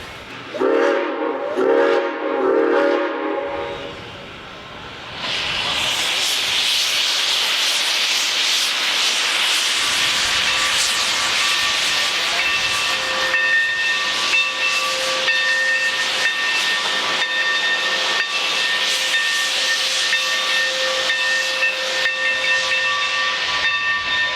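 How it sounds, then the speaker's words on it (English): Santa Fe 2926, a restored steam locomotive, moves along the line with a loud, continuous roar of hissing steam and steady whistle-like tones, after a brief low rumble at the start. "Finally, the locomotive moves back across 8th and enters the facility for the fire to be dropped"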